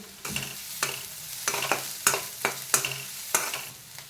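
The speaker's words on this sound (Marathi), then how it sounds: "एक मिनिटभर कांदा भाजून झाल्यानंतर एक चमचाभर लसूण खोबऱ्याची पेस्ट घालायची आहे आणि पुन्हा एक मिनिटभर भाजून घ्यायची आहे" Onion frying in a pan with a spoonful of garlic-coconut paste, stirred with repeated scraping strokes over a steady close sizzle, about seven distinct stirs in quick succession.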